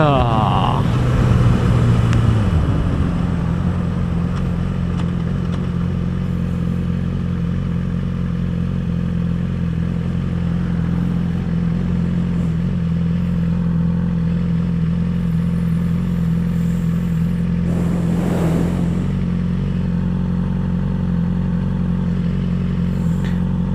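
A motorcycle engine drones steadily up close with a low idle hum, and a faint clatter and whir rise briefly near the end. No riding away can be made out clearly.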